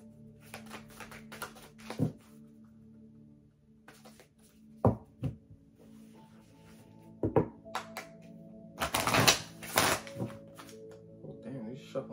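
A deck of tarot cards being shuffled by hand during a reading, with soft riffling and tapping bursts that build toward the end, heard under quiet talk nearby.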